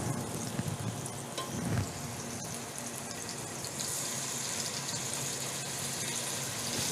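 Tomato sauce sizzles steadily and fairly quietly in a pan, with a soft continuous hiss and occasional stirring scrapes, no voices.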